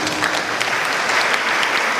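A church congregation clapping hands together during a sermon, loud dense applause held steady throughout at close range with no talking.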